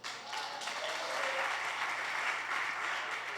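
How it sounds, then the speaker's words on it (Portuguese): Church congregation applauds throughout, a steady wash of clapping heard from some distance at moderate volume. "Você pode aplaudir ao Senhor?"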